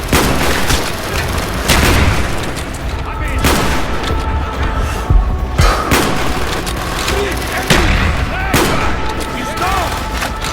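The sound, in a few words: mortar explosions in Call of Duty Black Ops video game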